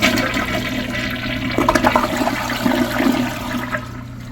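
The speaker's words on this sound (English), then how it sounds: "Now let's extend the flush." A Kohler Cimarron Class 6 toilet from the 2010s runs an extended flush, a close, loud rushing swirl of water that surges midway and then slowly tapers off, with no voices.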